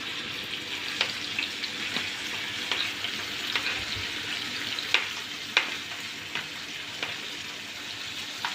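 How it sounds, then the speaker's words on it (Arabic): Freekeh frying in a spoonful of country ghee in a pan, a steady close sizzle with scattered small pops and crackles throughout. "حطيت معلقه سمنه بلدي هنا في الطاسه، ودلوقتي هحط عليها الفريك اهو"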